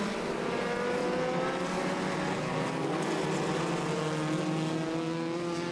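Race cars roar off together at the start of an enduro race at Irwindale Speedway, a loud, continuous blend of engines droning and rising with no talk over it.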